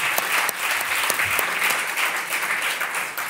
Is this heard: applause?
yes